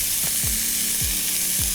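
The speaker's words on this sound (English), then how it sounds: "I'm adding a little bit of olive oil into the skillet here. I'm gonna be adding in some onions and celery." Onions and celery sizzle steadily in olive oil in a skillet, a close, loud and constant frying hiss with a few faint scrapes underneath and no talking.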